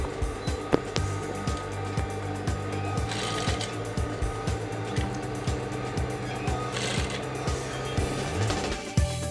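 A sewing machine stitching a seam on a danshiki, its needle thumping in a steady rapid mechanical rhythm with gear whir and ratcheting, close and continuous without talk.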